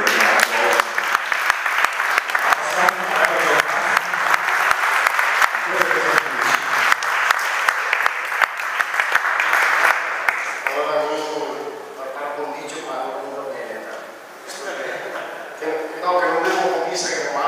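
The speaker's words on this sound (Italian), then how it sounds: "a cui faremo un grande applauso per il governo" Applause from an audience at a political gathering in Ronco all'Adige, a dense, steady clatter of many hands that fades slightly near the end, with voices mixed in beneath.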